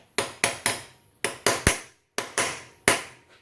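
Sharp metallic hammer taps on the bent lock-tab washer of a motorcycle rear sprocket nut, struck flat during chain and sprocket fitment: nine close, ringing blows in irregular groups with brief pauses, no talking.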